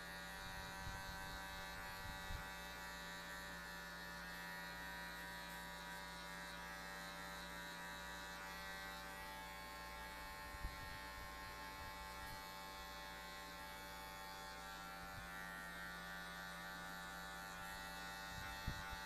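Electric hair clippers buzz continuously and close up while cutting a taper fade, a steady motor drone with small shifts in pitch as the blade moves through hair, no talking over it.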